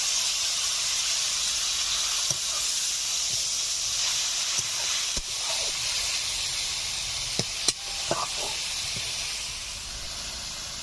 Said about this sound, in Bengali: সামান্য জল দিয়ে ভালো করে কষিয়ে নেব।